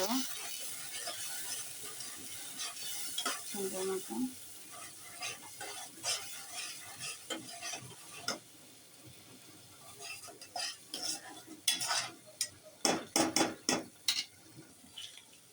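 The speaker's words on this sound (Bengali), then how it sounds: "আদা এখানে হলুদ মরিচ লবণ জিরা ধনিয়া সব দিয়ে দিতেছি এখন কষাই" Chicken pieces with ginger, turmeric, chili, salt, cumin and coriander, cooking for a papaya chicken curry, are stirred and fried in a pan. Scraping and clicking stir strokes run throughout, growing into sharper, louder taps near the end.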